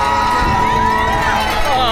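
A dense marathon crowd cheers runners in a loud, constant roar of shouting voices, with close whoops standing out over the din.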